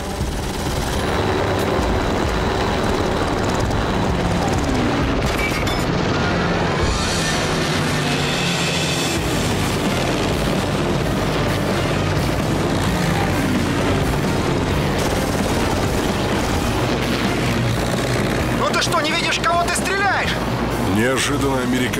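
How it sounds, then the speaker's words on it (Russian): Wartime aerial combat between B-29 bombers with escorting Mustang fighters and attacking Messerschmitts: continuous loud roar of aircraft engines with booming bursts and gunfire, dense and unbroken throughout, with narration over it. "Бомбардировщики Б-29 и сопровождавшие их истребители «Мустанг» отбивались от атакующих мессершмиттов."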